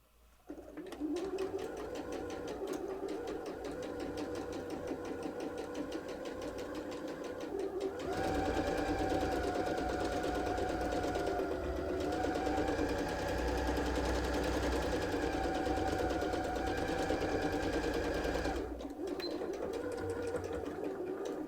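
Sewing machine stitching a mermaid purse, a steady mechanical whirr with a rapid needle patter that shifts to a slightly louder, faster run partway through, then stops near the end; close and alone.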